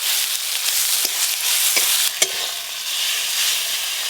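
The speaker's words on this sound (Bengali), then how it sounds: "মশলাটা কিন্তু বেশ ভালো করে কষতে হবে।" Spice paste of dried red chilli paste, turmeric and chopped tomato frying in a pan for a spicy fish curry, a steady close sizzle broken by several sharp scrapes and taps of a stirring spoon.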